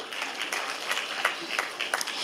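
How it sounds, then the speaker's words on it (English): A political speech audience applauds. Light, scattered clapping with sharp individual claps continues briefly and steadily, heard from a moderate distance. "Clap for it."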